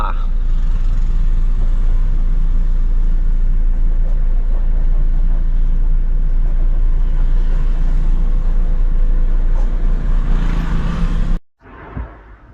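Road traffic on the Khandala ghat highway makes a loud, steady rumble of passing cars and trucks that holds for about eleven seconds, then cuts off abruptly to near quiet.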